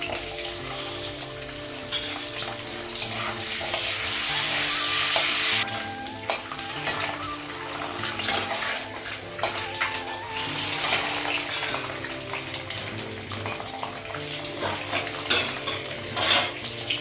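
Turmeric and spices fry in hot oil in a pan, a constant close sizzle broken by a louder hiss, with frequent stirring scrapes and metal utensil clinks against the pan.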